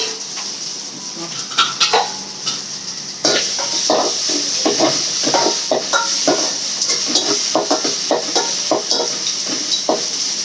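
Vegetables frying in oil in a pan crackle and sizzle steadily while a utensil scrapes and clinks against the metal in repeated stirring strokes, close and fairly loud.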